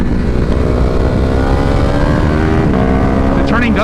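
A 2021 Ducati 950 Hypermotard engine pulling hard on a dyno, a loud sustained roar with a steadily climbing pitch and no break, and someone talking over it.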